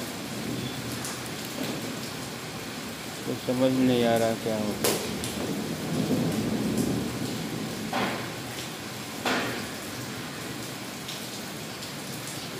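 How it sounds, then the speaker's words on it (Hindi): Heavy rain pours down over a farm during a damaging storm, a steady broadband hiss throughout, with voices talking over it and a few sharp knocks. "बहुत तेज़ बारिश हो रही है"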